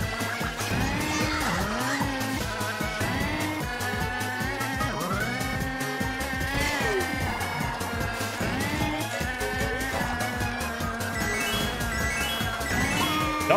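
A kart drifts in Mario Kart with repeated rising-and-falling engine whines and tire squeals over a bouncy game soundtrack, several sweeping slides heard in close succession and no talk.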